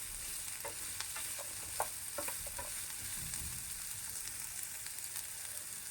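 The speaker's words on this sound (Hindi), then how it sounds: "गोभी को भी हमें हल्का सा सौटे करना है" Cabbage sautés in a pan while spinach cooks alongside, a steady close sizzle running throughout with a few light stirring scrapes and taps near the start, no voices.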